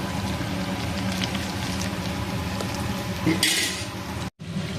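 Fried vanjaram (seer fish) pieces being placed into a bowl, giving light clinks and scrapes of metal cookware over a soft background sizzle, with no talking.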